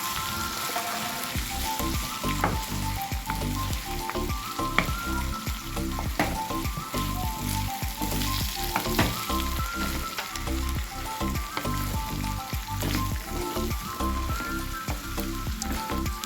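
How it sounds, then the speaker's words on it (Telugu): Cluster beans sizzle in hot oil while being stirred, a dense close crackling fry broken by repeated scraping and clattering strokes of a spatula against the pan. "ఇలా మొత్తం మనకి ఆయిల్ పట్టేలాగా ఒకసారి మిక్స్ చేసుకొని"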